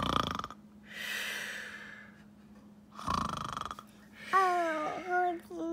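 A storyteller reading a children's picture book about a hibernating bear imitates its snoring with drawn-out, rasping breaths in a slow rhythm, and a voice chimes in near the end.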